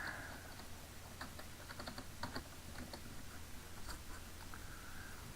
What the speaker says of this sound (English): So I'm going to type that in real quick.